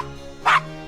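A small dog in the Gabriel Knight: Sins of the Fathers game gives a single short, close yip against quiet background tones.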